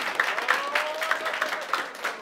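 Audience applause at a competition, brisk dense clapping from a crowd in a short continuous burst with slightly uneven surges.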